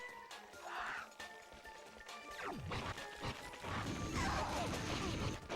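Wrench strikes in the video game Ratchet and Clank, a series of loud smashing and whacking impacts with crashes and rattling debris, building into a dense clatter toward the end.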